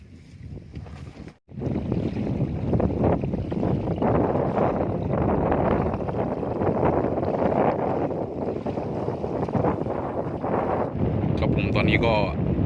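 Strong wind roars and buffets around a small fishing boat during a storm at sea, a loud, continuous gusting rush close to the microphone, briefly cutting out near the start.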